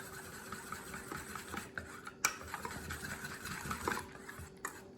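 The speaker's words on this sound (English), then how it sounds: "Just give that a whisk." A whisk stirs sauce for lettuce wraps in a bowl, giving a steady close scraping and swishing that carries through the whole stretch, with a couple of sharper clinks against the sides.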